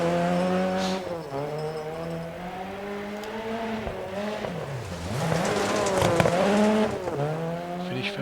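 A Ford Escort RS rally car in a racing game, on a stage in Sweden, revs hard through repeated gear changes, the engine note rising and dropping with bursts of tire squeal and skidding, loud and close throughout.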